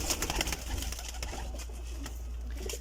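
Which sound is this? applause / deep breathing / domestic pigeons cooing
domestic pigeons cooing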